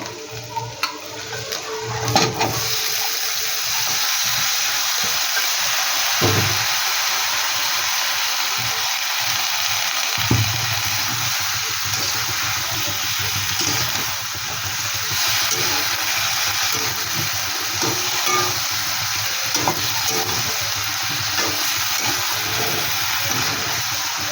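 Bottle gourd greens with fish and turmeric cook in a pan, making a continuous, even hiss and sizzle that holds steady for over twenty seconds with faint stirring knocks early on.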